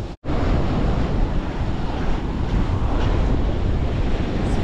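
Wild sea surf rolling onto a beach in Turkey on an overcast evening, a loud continuous roar of waves with heavy wind buffeting the microphone, after a brief dropout at the start.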